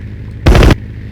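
A single short, loud burst of aircraft gunfire in the flight combat game Aces High 2, about a third of a second of guns firing together against quiet background hum.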